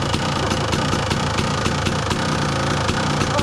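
A 2002 Kawasaki KDX 200 two-stroke dirt bike idles close by, a loud, steady, rapid burble with a faint regular ticking pulse running through it.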